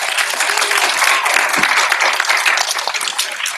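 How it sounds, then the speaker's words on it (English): An audience at a school poetry contest gives a sustained round of applause. The clapping is full and even from start to finish, with a faint voice briefly audible beneath it. "So round of applause."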